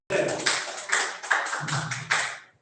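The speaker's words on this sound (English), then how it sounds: "A round of applause for them, please." Applause from an audience at a live maths challenge competition, a short burst of clapping with a few louder peaks, lasting a couple of seconds.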